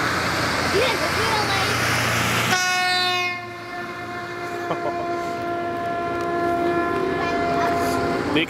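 A passing train sounds a loud, sustained horn, a steady tonal blast that holds for several seconds after a burst of rumbling rail noise, with faint voices in the background.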